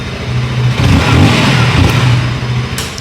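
A KTM Duke 160 motorcycle engine revs up and down loudly for a few seconds, a steady low throb swelling through the middle, with no voices.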